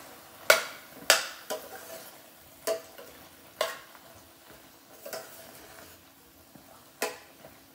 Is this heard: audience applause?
no